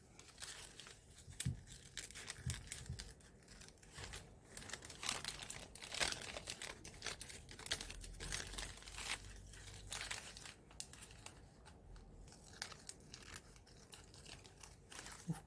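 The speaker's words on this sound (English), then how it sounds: "It's a little bit hard to cut this because it's a thin paper." Scissors slowly cutting through thin paper for a mixed-media art journal page, giving close, faint crinkling and snipping that continues steadily over a long stretch with no talk.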